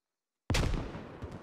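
A grenade explodes in the military shooter game Squad, a single loud, sharp blast bursting from silence and trailing into a rumbling decay.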